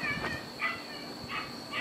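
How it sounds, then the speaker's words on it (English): Several dogs yap and whimper in the background at a moderate distance, with short excited bursts coming at irregular intervals over a steady hum. "Please forgive the dogs that are in the background."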